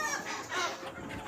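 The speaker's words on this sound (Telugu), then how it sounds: "చూడండి, ఇవి పుంజులు ఫామ్ లోపల ఉన్నాయి." Country chickens and roosters on a farm clucking in a quick, busy jumble, fairly close and steady across a brief stretch with no talk.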